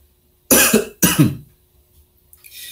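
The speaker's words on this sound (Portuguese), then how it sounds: "Deixa eu só dar uma pausa, tô tendo tosse aqui." Two sharp, loud coughs in quick succession, followed by a faint throat sound and quiet breathing.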